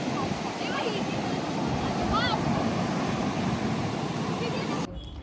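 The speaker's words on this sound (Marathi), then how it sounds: "आणि गाईज आता हे समुद्र खूप जास्त भरलेला आहे" Sea waves roll in at a Goa beach, a broad continuous wash of surf with wind buffeting the microphone, steady and fairly loud, ending abruptly.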